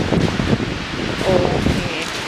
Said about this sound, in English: as you can tell it's still windy